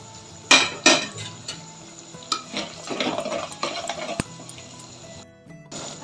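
Chopped tomatoes hit hot oil with onion, garlic and curry leaves for a Chennai-style fish gravy, giving sharp crackling bursts at first, then a steady sizzle with stirring scrapes and a single utensil knock.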